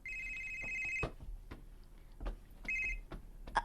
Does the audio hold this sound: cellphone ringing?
yes